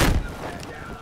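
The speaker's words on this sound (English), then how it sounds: "I heard my rocket fire" A rocket launcher fires in a video game: one sharp, loud blast at the start that trails off into a short low rumble.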